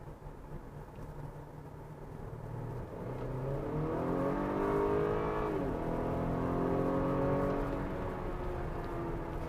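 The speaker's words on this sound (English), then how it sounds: "you put your foot on the accelerator, and it goes" A 2019 Acura RDX Tech Package crossover in Sport Plus mode accelerates hard, its engine note climbing steadily and growing louder over several seconds, heard from inside the cabin with no talking.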